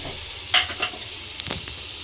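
Ginger garlic paste dropped into a hot, sizzling pan while making dum biryani gives a few short, close sizzling bursts with stirring scrapes against a low background hiss.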